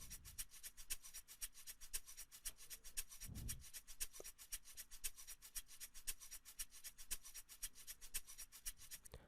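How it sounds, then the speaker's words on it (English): A looped shaker pattern from a remake of an Afrobeats track, with steady rapid bright ticks repeating evenly throughout and a brief low thump near the start, no voices. "next up we have some shakers loop"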